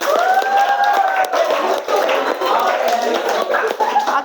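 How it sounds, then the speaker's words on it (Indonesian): Schoolchildren clap together in a classroom, a dense burst of applause mixed with their voices and chatter throughout. "Oke, tepuk tangan dulu."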